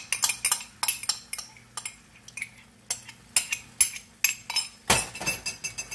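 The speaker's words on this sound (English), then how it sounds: "Mix that all together." A spoon scrapes and clinks against a pan while jarred thick and chunky salsa is stirred into beans, giving a steady run of close metallic taps and scrapes with no talking.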